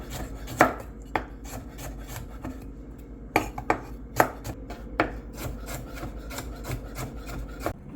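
Repeated knife strikes on a cutting board as vegetables are julienned for pad thai, irregular sharp chops with short pauses, close by, over a low background hum.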